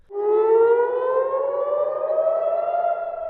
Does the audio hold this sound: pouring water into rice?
no